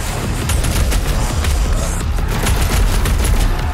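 Loud, dense gunfire and explosions from the DOOM Eternal video game roar continuously without a break, with no talking.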